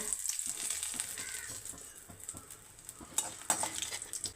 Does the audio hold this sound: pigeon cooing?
no